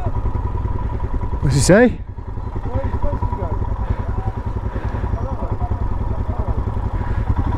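A Royal Enfield Himalayan motorcycle engine running with a steady, close, rumbling throb while riders talk over it in strong wind, and a brief sharp whistle-like sound rises midway.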